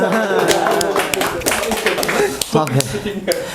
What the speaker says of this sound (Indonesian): Beri tepuk tangan buat peserta terakhir malam ini.